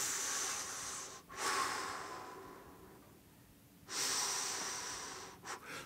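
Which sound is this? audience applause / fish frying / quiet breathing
quiet breathing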